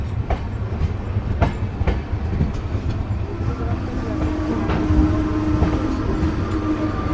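Nangal Dam Express 14505 running at speed along the rails, heard from inside the train: a steady loud rumble with recurring clickety-clack wheel beats over rail joints.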